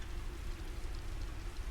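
Steady rain keeps up an even, constant patter over a low rumble, with no breaks and no voices.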